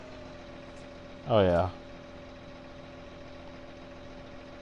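A tractor in Farming Simulator 19 idles with a steady, low engine hum throughout, briefly interrupted by a short spoken exclamation.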